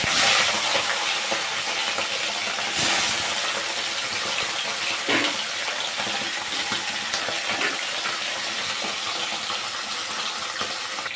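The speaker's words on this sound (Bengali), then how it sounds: "মাছটাকে একে একে দিয়ে ভেজে নেই মাছটাকে।" Pieces of fish frying in hot oil in a home kitchen, a dense continuous hiss and sizzle with scattered sharper crackles and a brief spatter burst, steady and close throughout with no one talking.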